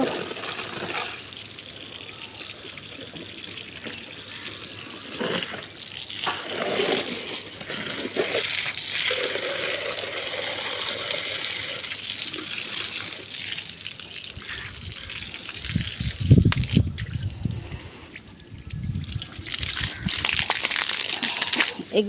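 A pipe pours water onto mango trees in a rooftop garden, the rushing flow rising and falling unevenly, with stronger gushing surges toward the end.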